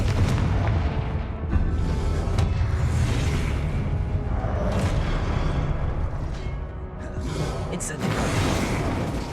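Repeated Confringo blast spell explosions in the Hogwarts Legacy video game, loud booming bursts and crackling impacts in quick succession amid battle noise, with a voice shouting over them.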